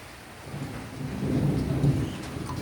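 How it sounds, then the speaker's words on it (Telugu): Heavy rain falling with a low rolling rumble of thunder that swells midway, a steady outdoor wash with no voices. "పెద్ద వర్షం పడుతుందా?"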